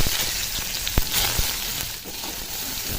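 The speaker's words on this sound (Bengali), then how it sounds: "পেঁয়াজটাকে একটু ভেজে নেব" Chopped onion frying in hot oil crackles and sizzles loudly and steadily at close range, with a few light clicks and knocks of stirring.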